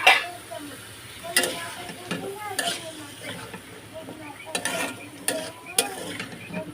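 Boiled potatoes added to a spiced masala and stirred in a pan, with a sizzling fry broken by repeated scraping and clattering strokes of a spoon against the metal, close by.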